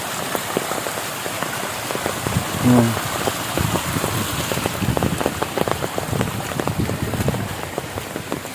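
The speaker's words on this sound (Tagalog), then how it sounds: "Ginuok ko ang uwan." Steady rain falls outdoors during a flood, a dense patter of drops striking surfaces nearby that continues unbroken throughout, with no voices.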